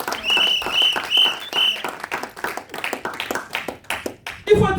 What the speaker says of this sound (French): Est-ce qu'on peut acclamer pour notre Seigneur?